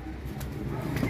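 A pigeon's soft, low coo, brief and fairly close, over faint background noise.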